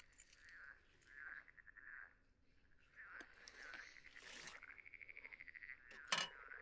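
Frogs croak beside a lake at a campsite in Abruzzo, Italy, with faint rhythmic calls repeating in short bursts, a quick trilling run near the end and a sharp clink close by.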